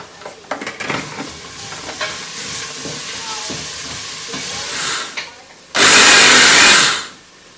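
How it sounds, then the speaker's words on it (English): An electric grinder whirs loudly through flax seeds in one steady burst lasting just over a second, after a stretch of quieter clattering and handling in the kitchen. "So please, when you're using flax seeds, make sure you grind them first. So I'm going to use the grinder here."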